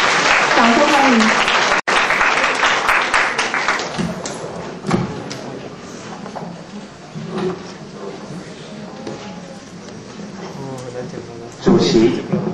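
Audience applause at an Asia-Pacific debate semifinal, loud and dense for the first few seconds as a guest is welcomed to the stage, then fading out while a voice begins talking amid occasional thuds.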